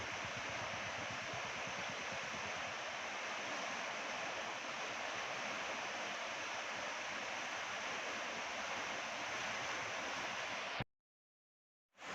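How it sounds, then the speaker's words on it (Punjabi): The Sutlej river in flood after the Bhakra dam floodgates were opened roars as a dense, steady rush of heavy water, loud and unbroken until it cuts off abruptly near the end. "ਕਿਵੇਂ ਭਾਰੀ ਮਾਤਰਾ ਦੇ ਵਿੱਚ ਇਸ ਸਮੇਂ ਸਤਲੇ ਦਰਿਆ ਪਾਣੀ ਆ ਰਿਹਾ ਹੈ"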